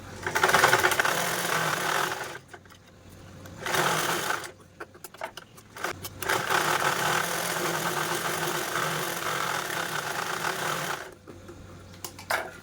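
A sewing machine runs double stitches along a zip in close, loud mechanical bursts of rapid stitching, broken by short pauses and quiet stretches between runs.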